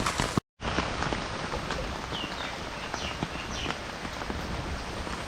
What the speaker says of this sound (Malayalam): നല്ല മഴ പെയ്ത് ഇപ്പോഴും മഴ പെയ്തുകൊണ്ടിരിക്കുക